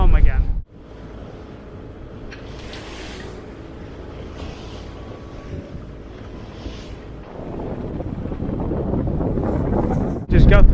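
A sailboat motoring under jib with its engine on through a choppy sea in the Bahamas, giving a steady rumble of engine, wind and rushing water for about ten seconds, rising louder near the end.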